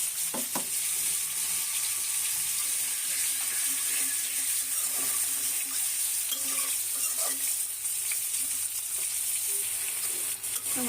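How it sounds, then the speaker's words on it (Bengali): A spice paste of turmeric, chili powder, salt and coriander-cumin powder with onion and garlic sizzles steadily in a pan with a splash of water. Close, continuous frying hiss with intermittent stirring scrapes and no talk. "হলুদের গুঁড়া, মরিচের গুঁড়া, লবণ আর ধনে জিরে গুঁড়া দিয়ে ভালোভাবে মশলাটা কষিয়ে নেব"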